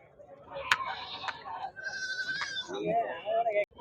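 Goats bleat at a busy Saturday livestock market in Ettayapuram, Thoothukudi district, with several wavering calls rising over steady nearby conversation.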